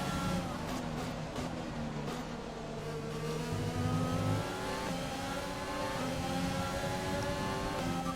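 An F1 race car in the F1 2020 video game accelerates off the start at the Brazilian Grand Prix, a loud, continuous engine whine climbing through rising pitch sweeps with other cars roaring nearby, no talk.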